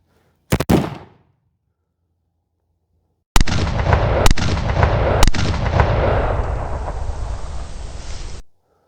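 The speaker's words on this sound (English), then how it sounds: "And that's the triple shot with live ammunition." Three sharp gunshots crack out loud and close, a lone blast followed by a burst of three rapid live-ammunition shots from a race-gun setup, each with a long rumbling echo.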